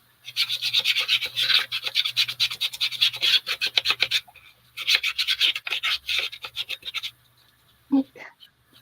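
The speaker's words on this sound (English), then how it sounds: "Critter scratching around." Close, dry scratching and scrabbling comes in rapid bursts with short pauses, then a faint brief vocal sound near the end.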